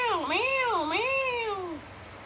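A cat gives a couple of close, loud, drawn-out meows in quick succession, each rising and falling in pitch, with a quiet room behind.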